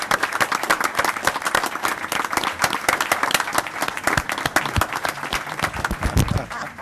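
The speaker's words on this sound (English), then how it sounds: "Let's give Mark a big round of applause for that," A room at a police jury meeting breaks into loud, sustained applause for Mark, dense clapping from many hands keeping an even level throughout.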